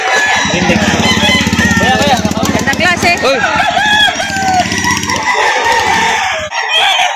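A rooster of the Bullet breed crows loudly at a chicken market, alongside clucking fowl, while someone speaks briefly over the noise.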